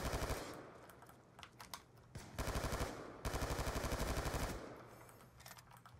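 Rapid bursts of automatic gunfire from a Call of Duty match rattle in several clipped volleys separated by short gaps, loud and close, with no talk.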